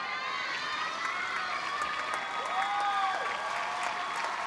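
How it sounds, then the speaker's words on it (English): Spectators at a junior wushu championship applaud and cheer an injured athlete finishing his taolu routine, a steady wash of hall-wide clapping and shouts at moderate distance. "As the crowd supports him, cheering him on"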